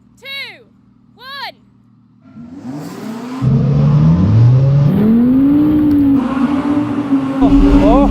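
An Audi R8 with Quattro all-wheel drive on winter tyres launching up a snowy slope with stability control off and a manual gearbox. Two short squeaky chirps come first, then a loud, close engine roar that climbs in pitch through successive gears.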